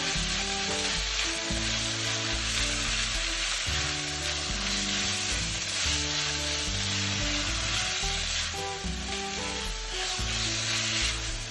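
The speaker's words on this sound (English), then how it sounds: "And give it a little stir." Kimchi stew with pork belly and tofu being stirred in a pot, giving a steady, close sizzle and bubbling that continues without a break under faint tonal background sound.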